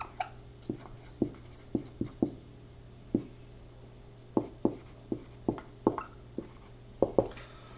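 Marker strokes tap and squeak on a board in short irregular bursts, a dozen or so quick strokes with pauses between, close and fairly quiet.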